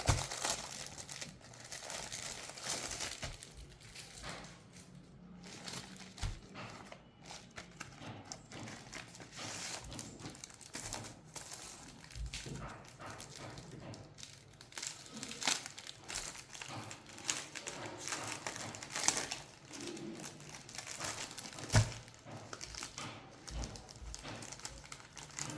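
Vinyl inkjet sticker paper sheets being unpacked and handled, continuous crinkling and crumpling of plastic and paper with scattered sharper rustles and taps, close and fairly quiet, without talking.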